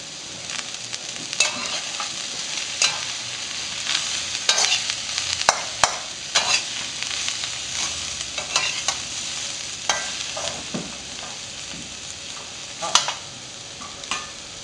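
Cabbage and carrots stir-frying in oil over very high heat for Gujarati sambhara, a soft continuous sizzle broken by scattered sharp clicks and scrapes of stirring, close and unaccompanied by talk.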